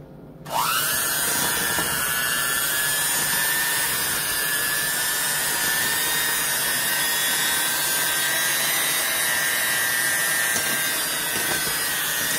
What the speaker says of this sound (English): Now what I'm going to do is I'm going to mix all of this together with a mixer.